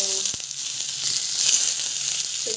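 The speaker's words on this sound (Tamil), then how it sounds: "ஸோ கடுகு, சீசம், ஸோ கருவேப்பிலை, பச்சை மிளகா அண்ட் ஆனியன் மூணு ஒன்றா போட்டுக்கலாம்." Mustard seeds, sesame, curry leaves, green chili and onion sizzle in hot oil with a steady, close, continuous crackling hiss throughout the short stretch, and no talking.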